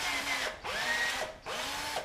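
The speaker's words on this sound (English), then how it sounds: "So I'm going to drill in." A power drill bores through an aluminium wing rib for a Zigolo light aircraft, whining loudly up close in three sustained bursts with brief pauses between them.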